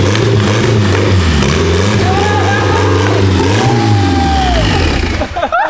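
A KA24DE-T turbo engine swapped into a rear-wheel-drive Honda Civic revs hard on its first drive, loud and close, its pitch rising and falling through several throttle blips before easing off at the end.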